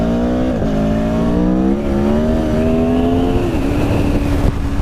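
A 2017 Aprilia Tuono Factory motorcycle accelerates on a wet road with traction control working, engine note rising steadily through the revs with a brief dip near the end, loud and close with no voices.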